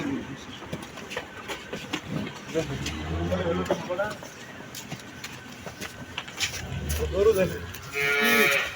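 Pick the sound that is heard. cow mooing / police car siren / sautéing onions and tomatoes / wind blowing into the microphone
cow mooing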